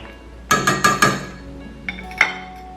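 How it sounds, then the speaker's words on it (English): A spoon rapidly clinks four times against a metal pot while chocolate is stirred into milk, followed by a pause and two lighter taps, close and bright in a quiet kitchen. "Add the chocolate into the milk. Give it a quick stir."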